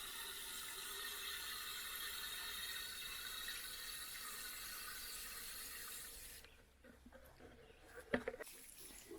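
Water poured around garden plants, a steady broad rush of flow onto soil that runs for several seconds before stopping, followed by a few faint handling clicks and knocks.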